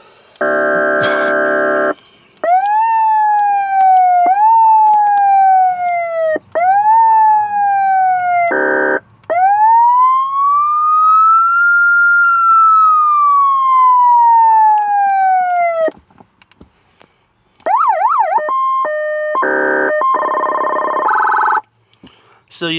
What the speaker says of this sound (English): Have a wail tone, then have a yelp tone going at the same time.